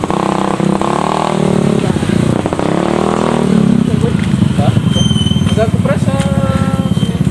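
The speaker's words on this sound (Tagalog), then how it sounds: "Nandito pala yung motor." A motorcycle engine idles and putters steadily close by, with a low, continuous rumble. People talk over it throughout.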